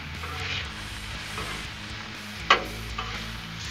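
Peppers, onions and mushrooms for cheesesteaks sizzling and being stirred in a pan, a steady close frying hiss with scraping stir strokes and one sharp utensil clink.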